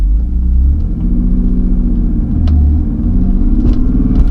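A BMW car, one of the E30, E36 or E92 models, drives off after a shift into first gear, giving a steady low engine rumble with slight swells in load, close and loud with no talking.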